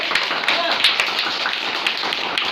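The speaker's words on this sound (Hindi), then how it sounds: "एक बार जोरदार तालियां हो जाए" Children at a school quiz contest clap for a winner, a lively scatter of individual claps, fairly close and steady throughout, with light talk mixed in.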